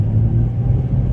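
A 2007 Nissan 350Z Nismo drives along, its engine producing a steady low rumble and drone inside the cabin, continuous and fairly loud, with no one speaking.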